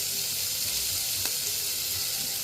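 Meat sears in a hot pan after being flipped, giving a steady, quiet sizzle and hiss close by, with a brief crackle near the middle and no talking.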